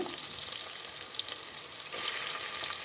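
Cut onions sizzle in hot oil while spicy Telangana-style chicken is being cooked. The hiss is broad and steady and grows a little louder near the end, with no talking.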